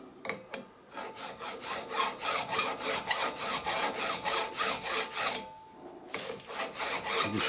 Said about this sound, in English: Just slowly and gently file away until that face is level with the top of the body.